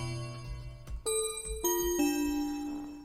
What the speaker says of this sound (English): Toy piano bells.